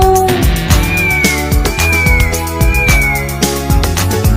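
Sung meows in a bouncy children's song over a steady beat and bright melody; a voice imitates a cat, not a real animal.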